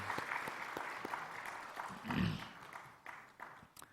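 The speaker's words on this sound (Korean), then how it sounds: "축하하는 우리 박수 한번 힘차게 하십시다." Church congregation applauding during a Sunday service, a steady broadband wash of clapping with scattered sharper claps and a brief low thump midway, moderately loud and fairly close.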